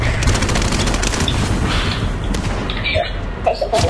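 Rapid gunfire in the video game Call of Duty Warzone, a dense continuous barrage of loud shots throughout, with a voice speaking over it near the end.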